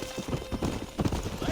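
Quick, rhythmic clip-clop of horse hooves trotting in Red Dead Redemption, close and fairly clear, with a voice briefly heard over them.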